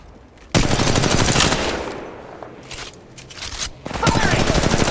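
Automatic gunfire from the mobile battle royale game Apex Legends Mobile, loud sustained bursts of rapid shots starting abruptly, easing into scattered shots, then resuming in heavy continuous fire, with game voice callouts mixed in.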